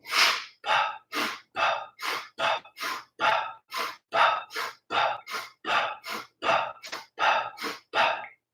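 Rapid rhythmic breathing during a breathing exercise, about seventeen quick, even, forceful breaths through the nose and mouth in steady succession, close and clear with no talking.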